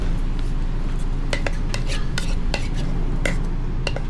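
A utensil stirs crab meat, cheese and other crab dip ingredients in a bowl, giving repeated close scraping clinks in an uneven rhythm over a steady background hum.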